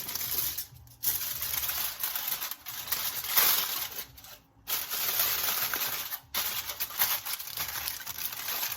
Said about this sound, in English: I'm going to wrap it up now, but I'm going to unwrap it at the very end.